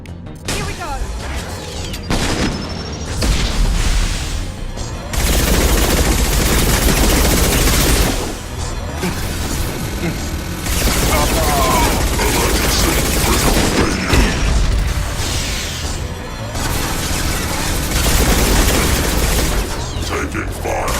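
Heavy sustained gunfire and booming explosions in the sci-fi video game Mass Effect 2, loud and nearly continuous throughout, with rapid automatic bursts, blasts and mechanical battle noise layered together.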